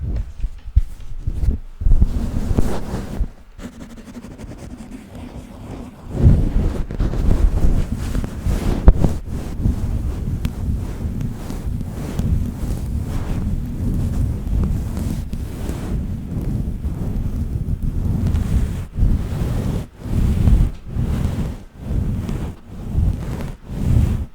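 A pink square of felt is wrapped and scratched against a microphone, giving a close, loud, rumbling rustle with muffled crackly bursts and brief pauses, broadband and wind-like, no talking.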